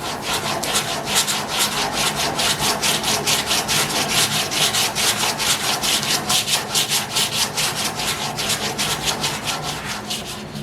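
Steady back-and-forth sanding scrapes across still-soft body filler on a car body repair, a fast rhythmic rasping that continues throughout, close and fairly loud with no talking.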